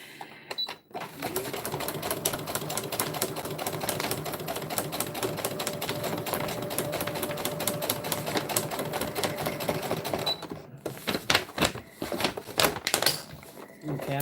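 Sewing machine stitching a beach bag, a rapid steady mechanical clatter running close for about ten seconds, followed by short stop-start bursts of stitching.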